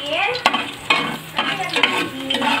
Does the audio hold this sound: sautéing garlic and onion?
yes